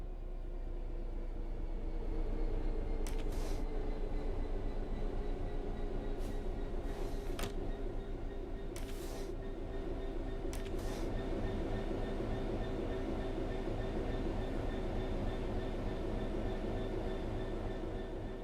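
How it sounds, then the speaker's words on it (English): A train in Train Sim World 3 coasting on level ground, a steady low rumble and hum of running gear with a few brief hissing bursts, continuous and even throughout. "The train will then coast on level ground, and the train will only slow down very gradually."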